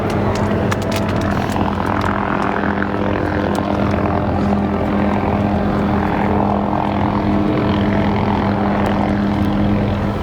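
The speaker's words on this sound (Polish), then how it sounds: "I tam sobie ludzie lecą helikopterem." Steady, loud helicopter engine drone with a throbbing rotor hum over a Hawaiian valley, continuous and unbroken, no voices.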